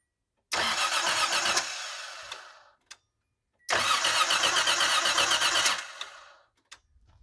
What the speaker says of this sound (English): So new starter's in, engine spins over, sounds great.